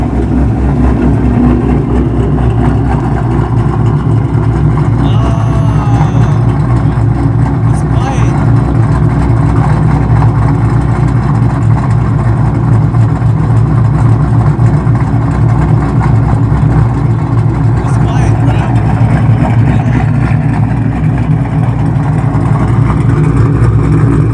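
A 2019 Ford Mustang GT engine with a ghost cam tune idles loudly and close up with a lumpy, uneven lope, a steady rumble that runs throughout.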